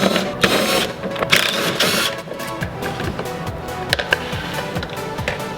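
A 3/8-drive ratchet backs out 10mm bolts on a 2021 Lexus IS350 panel, with repeated quick clicking bursts and small metallic mechanical rattles, close and moderately loud, with no talking.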